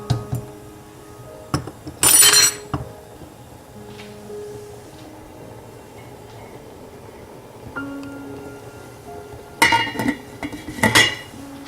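A lid set onto a pot of corn chowder gives a couple of brief metallic clinks and clatters, close and fairly sharp, with short quiet gaps between.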